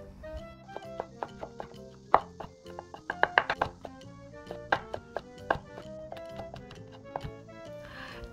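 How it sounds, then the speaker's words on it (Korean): A knife chops shiitake mushroom, carrot, zucchini and onion on a cutting board for porridge, a close series of sharp, uneven taps that bunch into quick runs and then thin out. "칼로 썰어도 좋고, 커트기 이용해서 간단하게 다져도 좋습니다."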